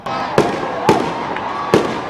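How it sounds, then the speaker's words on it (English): New Year fireworks greeting 2024 burst in three sharp, loud booms spaced about half a second apart, each followed by a brief crackling decay over steady background noise. "Everywhere fireworks welcomed the New Year 2024."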